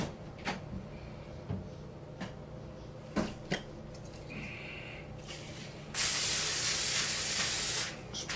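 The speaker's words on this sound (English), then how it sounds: "Spray that in case any of the juices come out." After a few scattered clicks and knocks, a loud aerosol spray hisses steadily for about two seconds, close by, then stops.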